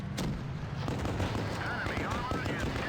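A Leopard tank's gun fires in World of Tanks Blitz, a sharp blast near the start followed by rumbling battle noise, with someone talking throughout.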